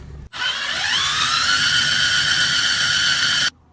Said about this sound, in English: Now that it's started, I'll see if I can go faster.